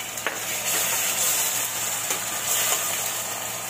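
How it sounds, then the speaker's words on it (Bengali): Ginger-garlic paste frying with spices in a pan for a home-style chicken bhuna: a loud, steady, close sizzle with a few faint stirring scrapes and no speech. "পেস্টটা ভাজা হোক।"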